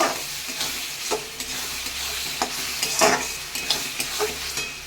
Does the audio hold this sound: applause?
no